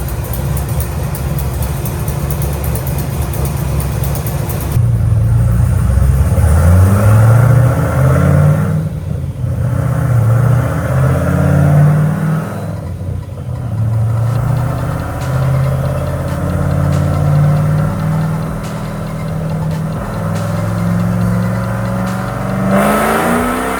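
A 427ci engine in a Nissan S14 240SX revs hard on a dyno, loud and close, with rising and falling engine pitch through repeated pulls and a steady mechanical roar throughout.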